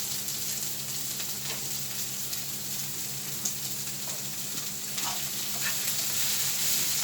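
Shrimp frying in oil in a pan for hibachi, a loud continuous close sizzle that swells slightly toward the end, with occasional light stirring.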